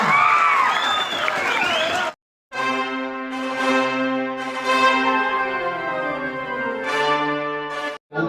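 An audience bursts into applause at a jatra folk-theatre stage show, a dense clapping roar lasting about two seconds before it cuts off and amplified music with singing takes over.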